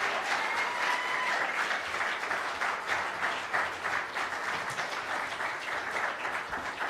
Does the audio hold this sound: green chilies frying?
no